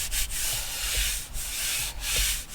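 Paper is rubbed over a bread tag to lift its impression. The close, dry scrubbing strokes come in a few quick back-and-forth passes with brief gaps between them.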